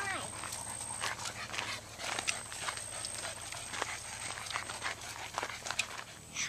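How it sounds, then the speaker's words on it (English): A dog moves along a park nature trail on a hot day, its brief sounds scattered under continuous talking and outdoor noise, with a steady hum throughout. "Our trusty dog, Chicho, will help us find something to look at."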